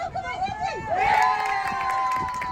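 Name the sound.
crowd cheering at youth soccer match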